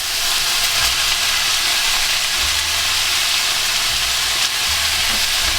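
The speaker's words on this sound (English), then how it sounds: "Now in with our mushrooms." Mushrooms, leeks and carrots frying together in a pan for a beef and vegetable pie, giving a steady, loud sizzle with soft low stirring thumps throughout and no talking.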